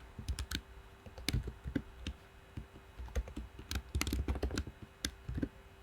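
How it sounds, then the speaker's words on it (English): Typing on a broken computer keyboard produces irregular clusters of close, crisp key clicks and thumps, bursting and pausing over a steady low hum with no voice. "Oh my gosh, so much typing."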